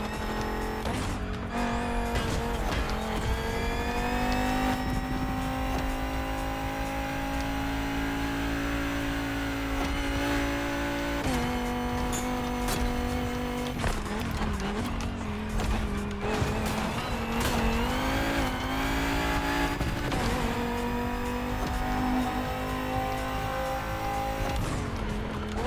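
Race car engines roar continuously in a racing video game, KTM among the cars, with rising and falling revs, gear shifts, and occasional tire squeal, loud and constant with no talk.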